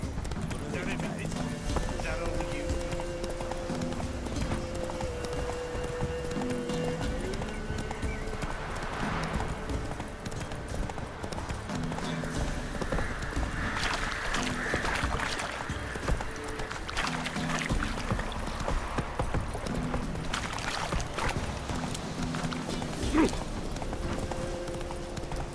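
The horse Roach in The Witcher 3 galloping, with a continuous clip-clop of hooves and an occasional whinny, while a voice talks over the hoofbeats and game music plays.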